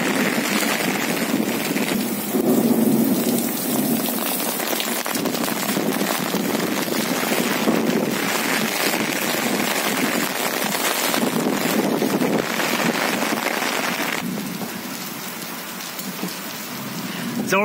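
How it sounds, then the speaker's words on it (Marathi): Heavy rain pours down over Latur city in a dense, steady roar of drops on surfaces, with gusts of wind buffeting the microphone and the downpour easing slightly near the end. "आपण पाहताय लातूर शहरावर मुसळधार पाऊस चालू आहे।"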